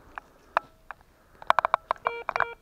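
A metal detector sweeps over a buried wristwatch in a field, giving a run of short, sharp electronic beeps and tones that come faster and in clusters toward the end, close and clear.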